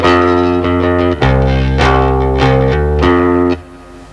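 Bass guitar riff played slowly with a hammer-on, a handful of sustained, loud notes with a bright attack, alone, ending in a fade.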